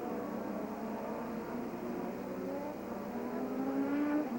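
Formula 1 cars racing at the 1986 Canadian Grand Prix on the Gilles Villeneuve circuit, a continuous distant engine drone with rising pitch as cars accelerate, no voices.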